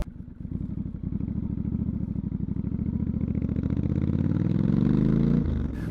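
A motorcycle engine fires up and settles into a rhythmic, throbbing rumble that steadily climbs in pitch and loudness, heard close and alone.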